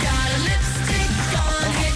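A pop track plays from a recording, loud and dense with a driving beat and a full mix, and no one talks over it.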